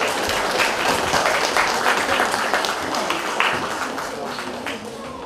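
Audience applause at an Easter gathering in Lubawka, dense and steady clapping from a full room that keeps going for the whole stretch, loud and close, with no pause.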